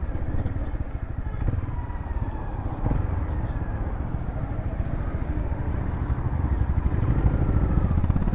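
A Honda CB300R six-speed motorcycle ridden on a main road in Bangalore, its engine droning steadily and close, mixed with wind rush and road noise that swell slightly toward the end.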